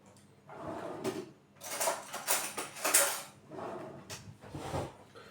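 A spoon clinks and scrapes against dishes holding caramel-filled donuts in several short bursts, close by and fairly quiet, with pauses between.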